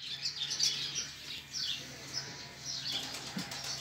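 Pigeons flap their wings in a quick run of soft fluttering beats, with faint chirps, all heard fairly quietly with no one speaking.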